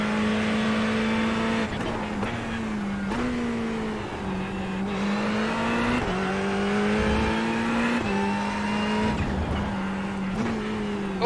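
A Ferrari 488 Evo race car engine in the iRacing sim at the Hungaroring, revving loud and close with a steady droning pitch that rises and falls through gear changes and lifts, alone without talk.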